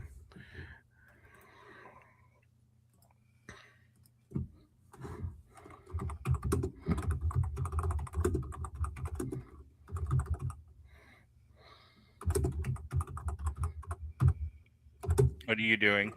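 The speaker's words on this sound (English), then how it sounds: "I'm typing in just words that come to my head" Computer keyboard keys tapped in bursts of quick clicks, moderately close, with a short pause partway through; a voice talks intermittently over the typing while song lyrics are entered.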